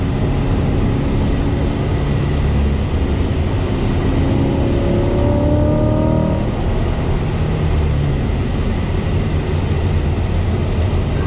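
A Corvette C8 pulls hard out of a corner on a race track, its engine a loud, continuous roar that climbs in pitch through the gears, heard close and alone under heavy wind rumble.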